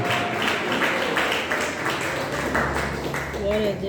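A church congregation claps in a steady rhythm, the clapping sitting under prominent voices throughout.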